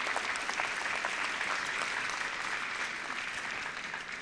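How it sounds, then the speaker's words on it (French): Audience applause at a mayor's New Year greetings ceremony, a dense, sustained round of many hands clapping that holds steady and fades slightly toward the end, with no talk over it. "Par nos applaudissements, nous disons à vous quatre, Jacques, Gérard, Louis, Colette"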